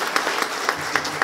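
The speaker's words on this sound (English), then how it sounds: "We'd like to appreciate and give him a big round of applause" Conference audience at a healthtech entrepreneurs' talk breaking into a short burst of applause, a dense patter of many hands clapping in a hall.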